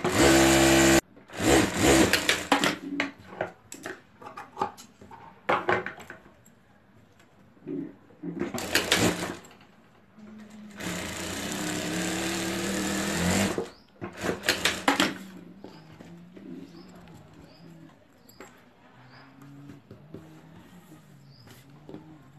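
A sewing machine stitches a 12-inch zip onto a homemade sling bag. Several close, whirring runs of stitching of varying length are separated by quiet pauses and handling noises.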